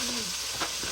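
Onions dropped into a pan of frying chicken for a Nepali chicken curry give a steady, close sizzling hiss that carries on without a break for the whole moment.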